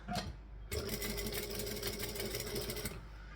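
A sewing machine runs in a steady fast whirring stitch while closing a bag lining, starting with a brief burst, then a short pause, then a continuous run of about two and a half seconds nearby, with no talking.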